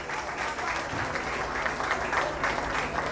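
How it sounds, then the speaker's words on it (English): Steady applause from an audience at an Independence Day talent show, dense continuous clapping filling a hall at moderate volume for the whole stretch. "So give them a warm round of applause"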